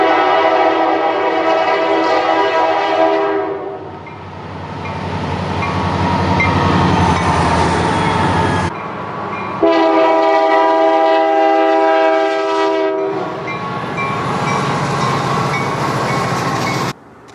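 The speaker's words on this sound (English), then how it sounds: "The last train we're going to see breaking through snow" A train plows through snow in a Wisconsin winter, rumbling past with a loud, sustained horn blasting in long bursts over heavy, noisy churning, close by and continuous.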